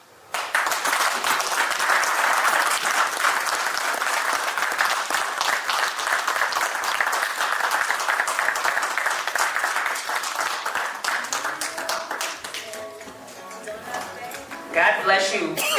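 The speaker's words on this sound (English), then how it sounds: "Big round of applause for Thesia Jenkins." Gala audience applause builds quickly into sustained loud clapping that fills most of the stretch, then thins out near the end as a voice begins speaking.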